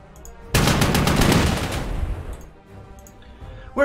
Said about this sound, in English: we apply lots of artillery to this poor town